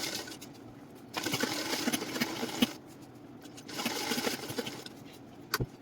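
A sewing machine stitches a seam on loose-fitting ladies' pants in two bursts of rapid mechanical whirring, with short pauses and a sharp click near the end.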